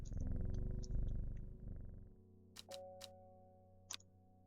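A cat purrs while being petted in Strange Horticulture, a loud, steady, rumbling purr that stops partway through, followed by a few sharp clicks over a quiet tone.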